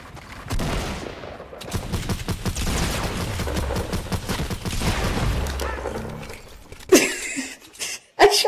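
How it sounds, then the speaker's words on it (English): Gunfire in an online first-person shooter video game, a dense stretch of rapid shots and impacts at moderate loudness, followed by a few sharper bursts near the end. "I shot you through the wall."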